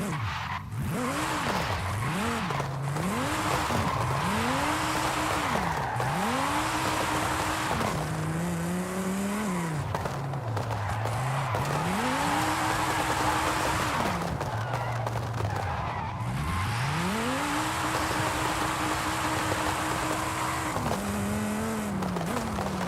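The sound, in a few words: Dodge Viper engine and tire squeal, Forza Horizon 5 video game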